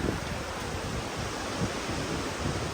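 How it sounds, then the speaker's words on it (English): Wind rising through a woodland hammock camp, a steady broadband rush and roar buffeting the microphone without pause, fairly loud and continuous with no voices. "the wind's getting up again"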